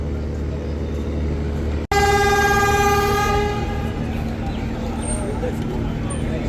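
Passenger launch MV Parabat 18 nearing the ghat at Barishal sounds a loud, sustained horn blast of about a second and a half over a constant engine and water rumble, with the rumble continuing after the horn stops.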